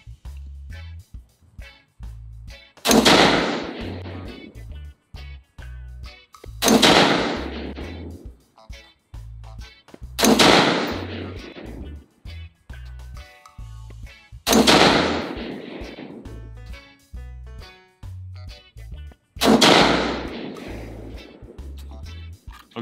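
Caracal CAR816 A2 piston-operated AR-15 rifle firing Browning .223 50 grain varmint ammunition, five loud, sharp shots spaced about four seconds apart, each with a ringing echo tail over outdoor background.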